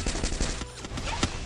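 Loud, dense gunfire in a video game, with rapid overlapping shots crackling together in a continuous volley.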